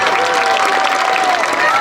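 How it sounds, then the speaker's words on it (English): Audience applause for TK through 3rd grade Golden Oak award recipients at a school ceremony, a steady loud wash of clapping with crowd noise and a faint sustained tone running through it. "One more round of applause, please, for our TK through 3"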